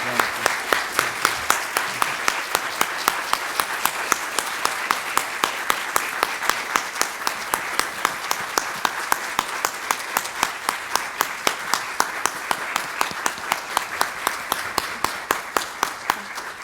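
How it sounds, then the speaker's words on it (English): An audience applauds after a talk at a presentation on Rohingya refugees, with a long, steady run of evenly paced clapping that holds at a constant level throughout. "May I just propose we give a big round of applause"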